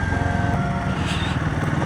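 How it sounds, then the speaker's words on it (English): A Royal Enfield Himalayan 450 motorcycle engine rumbling steadily up close at cruising speed on a windy Australian Alps road, with constant low throbbing and wind noise. "I'm on a motorcycle, the bike's doing all of the work."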